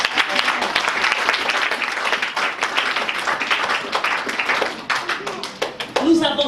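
A church congregation claps and applauds for Mary, with dense, sustained clapping throughout. Voices mix in, and a single voice rises near the end.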